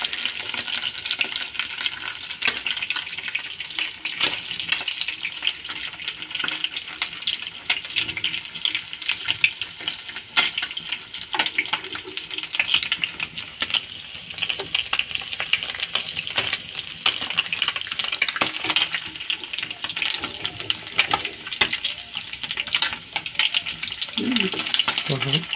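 Fish fries in a pan with a steady, dense sizzle and crackle, punctuated by light scraping as two spoons turn the pieces, running close and continuous throughout.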